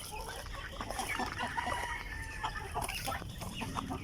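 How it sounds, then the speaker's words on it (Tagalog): Hens and other chickens on a free-range farm cluck and chatter continuously, close and overlapping, with a busy flock murmur underneath. "Yung mga malalaki mga kaputak."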